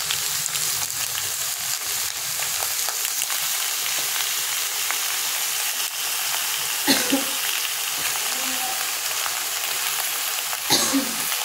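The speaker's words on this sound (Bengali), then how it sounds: "এবার খুন্তির সাহায্যে আমরা সবজিটাকে নেড়ে নেব।" Vegetables and meat pieces stirred with a metal spatula in a hot pan, a loud, dense sizzle with scraping strokes and a couple of heavier scrapes toward the end, no speech.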